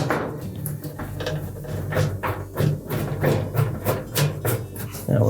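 Screws being removed from the bottom of a heater housing, heard as a series of close, repeated knocks and clicks in an irregular rhythm.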